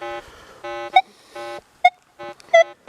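A Manticore metal detector in all-terrain low-conductor mode sweeps over a buried nickel and a nail, producing a pattern of buzzy tonal beeps broken by short, sharp high pings in a repeating, uneven rhythm.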